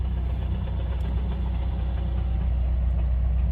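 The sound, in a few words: Subaru WRX engine noise that goes away with clutch pushed in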